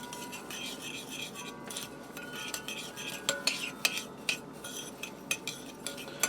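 Chicken filling stirred with granulated garlic in a bowl, a utensil scraping and clinking against the sides in a steady rhythm with sharper clinks toward the end, close and moderately quiet.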